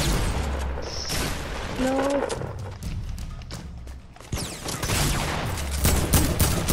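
Gunfire from the Fortnite video game comes as bursts of rapid shots mixed with game effects, fairly loud and uneven, while a player briefly speaks.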